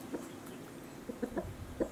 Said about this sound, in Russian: Да, петух в основном сейчас разговаривает, он сам такой.